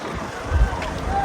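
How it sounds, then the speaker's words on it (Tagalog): Strong wind on Pangil Bridge buffets the microphone in uneven low rumbling gusts, swelling loudest midway and staying rough and close throughout. "Sobrang lakas ang hangin."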